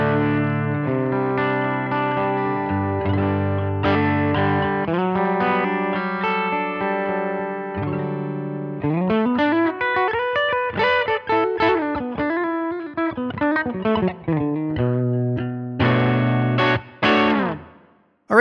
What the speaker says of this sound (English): Bring our reverb in. The plate reverb, I kind of liked what it was doing here.